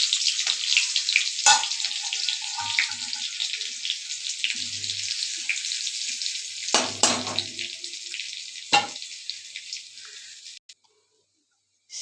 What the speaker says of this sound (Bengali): আমি তেল দিয়ে দিলাম। একটা শুকনো লঙ্কা দিয়ে দিলাম ছোট, আর রসুন কুচি দিয়ে দিলাম থেঁতু করে।